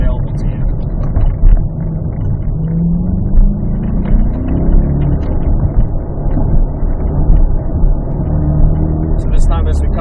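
A 2024 Corvette E-Ray launching on an autocross course, with a loud continuous engine roar and rising rumble close by, and a voice talking over it throughout.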